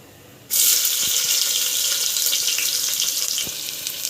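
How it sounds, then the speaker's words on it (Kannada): Chopped onion drops into hot oil with mustard seeds and cumin for palak rice, setting off a sudden loud, close sizzle that hisses steadily on, with a few faint clinks and no talking. "ಸೊ ಇವಾಗ ನಾವು ಇದಕ್ಕೆ ಹೆಚ್ಚಿಟ್ಕೊಂಡ್ರು ಒಂದು ಆನಿಯನ್ ಹಾಕ್ತಾಯಿದ್ದೀನಿ"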